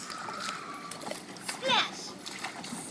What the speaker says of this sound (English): Splash! Splash, Daddy!